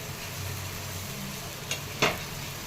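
Cumin and thecha sizzling in hot oil in a pan, a steady faint frying crackle throughout with a couple of brief sharper pops or clinks near the end.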